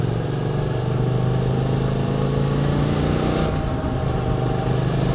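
A QJ SVT 650X motorcycle engine fitted with a new exhaust runs steadily, a loud close drone with a slight rise in revs midway and no talking.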